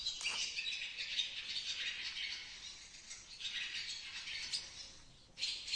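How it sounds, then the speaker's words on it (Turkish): Several small birds chirp and twitter continuously in an enclosed space, faint but busy, with overlapping high calls. "He, kuşlar içeriye gidiyor. Ben ne bu ses nereden geliyor?"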